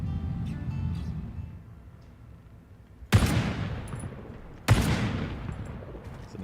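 Two loud, sharp gunshots in a video game, each cracking suddenly then trailing off in a long echoing decay, set apart by about a second and a half over a low rumbling background.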